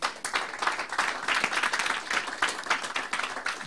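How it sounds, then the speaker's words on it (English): Congregation members in a church clap hands in a thick, continuous wash of applause, fairly loud and sustained with no talking over it. "You can clap hands far much better than that."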